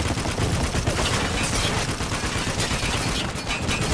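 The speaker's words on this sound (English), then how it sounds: "Walker, we need to take out that 50 cal" Dense, continuous heavy machine gun fire from a .50 cal turret in the shooter game Spec Ops: The Line, a sustained loud broadband rattle of overlapping shots and battle noise with no gaps across the whole stretch.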